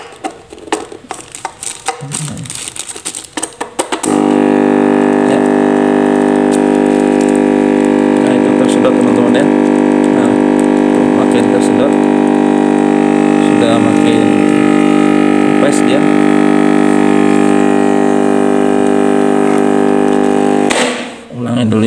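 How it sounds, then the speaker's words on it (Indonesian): A vacuum sealer's pump draws air out of a plastic bag, switching on abruptly after a few clicks and handling noises, then holding a loud, steady, tonal motor hum for about seventeen seconds before cutting off. "menyedot udara yang ada di dalam plastik ini"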